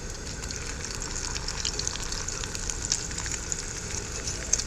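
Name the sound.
eggs and Spam frying on a tailgate camp stove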